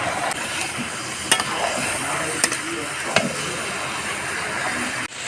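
Meat is dropped into a pan of spices (chili powder, turmeric) for a Bengali home-cooked curry, giving a continuous sizzle and frying hiss with a few sharp scraping stirs of a utensil, while a voice speaks over it.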